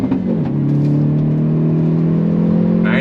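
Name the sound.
Hyundai Veloster N engine revving with pops and bangs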